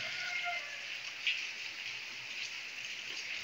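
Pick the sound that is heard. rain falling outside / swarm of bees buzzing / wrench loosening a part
rain falling outside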